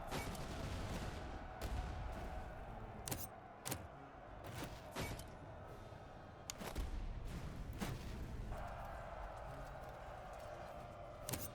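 Musket volleys in the Master of Command video game, French light corps: a dozen or so sharp, crackling shots at irregular intervals over a continuous low battlefield bed, some close together, fairly faint overall.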